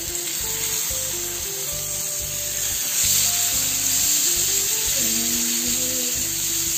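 Pomfret fish fries in a pan with a continuous, close hissing sizzle, steady and fairly loud throughout, alongside a low tonal hum; no voices.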